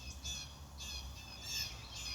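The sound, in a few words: birds squawking outdoors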